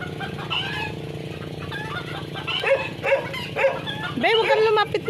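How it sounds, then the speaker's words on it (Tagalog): A dog barks several times at moderate distance, irregular short bursts over steady background noise and nearby talk. "Shoutout sa asong tumatahol."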